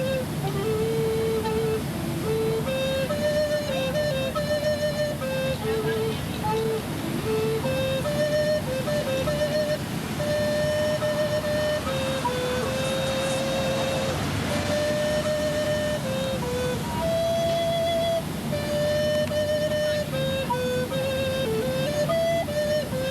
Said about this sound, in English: The tenor recorder is much deeper and much softer.